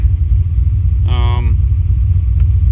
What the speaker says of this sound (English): Here we are, idling, started right up.